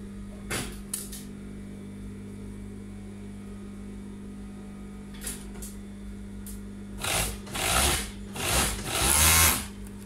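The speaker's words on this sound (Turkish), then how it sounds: "Diğer omuzunu da dikiyorum." A sewing machine stitches the shoulder seam of a pleated dress with a framed collar. After a quiet stretch with a few small clicks, the motor whirs in loud, close bursts near the end.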